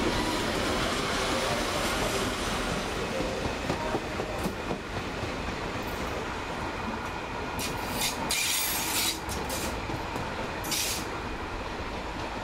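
A container train with ADL diesel locomotives and a guards van rolls past on the rails with a continuous rumble, rhythmic wheel clatter and a few brief high squeals, fairly close.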